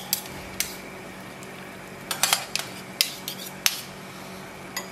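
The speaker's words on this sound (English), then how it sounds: "with the spoons I'm going to shape them into oblong dumplings" Metal spoons shaping semolina dumplings for a German cherry dumpling soup clink and scrape against each other in a kitchen, making sparse close clicks in small clusters over a quiet background.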